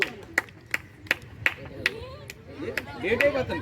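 Children at a Sunday school Christmas program clap in sharp, evenly spaced single claps, about ten over a few seconds, with faint chatter and movement beneath and a busier, overlapping patch toward the end.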